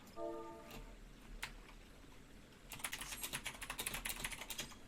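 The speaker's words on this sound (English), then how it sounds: "Oh, I was typing." Rapid clatter of keys on a computer keyboard during an online game session, starting faint and sparse then becoming a dense, close burst of typing in the second half, with no talking.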